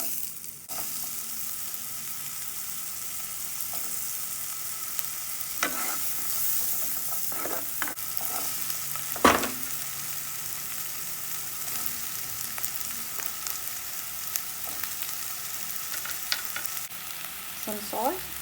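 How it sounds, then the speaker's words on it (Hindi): Capsicum sautés in butter in a pan over medium heat, a steady close sizzle broken by scattered clicks and scrapes of stirring, with no voices. "इसको हम लोग थोड़ा सा सौते करेंगे बटर में"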